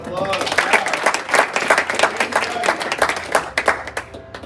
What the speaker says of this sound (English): All right, let's give a round of applause.